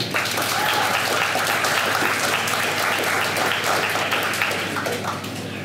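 Loud, dense audience applause after a poem is read at a community night, a continuous roar of many clapping hands that holds steady for several seconds before easing slightly at the end.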